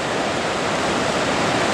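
Turbid, muddy Genesee River rushing in flood, a loud, continuous broadband roar of churning water close by, steady and unbroken, with no voices.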